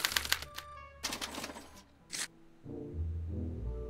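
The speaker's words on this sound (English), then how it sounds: "As the responses are recorded, they're relayed to this special typewriter, which prints out a punch card that represents the subject's mind map." A special typewriter in a Back to the Future video game rattles out a punch card in quick clattering bursts, then gives way to a lower mechanical hum at the end.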